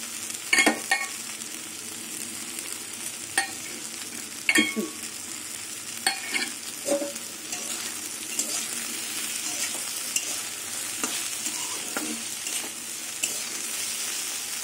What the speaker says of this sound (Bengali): আর একটু ভেজে নেব।